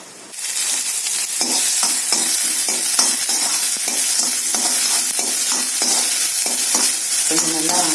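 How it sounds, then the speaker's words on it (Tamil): Chopped small onions hit hot oil with mustard seeds and urad dal for a spinach stir-fry, bursting into a loud continuous sizzle with repeated scraping stirs of a spoon through the pan. "பொடியாக நறுக்கின சின்ன வெங்காயத்தை போட்டுடலாம்."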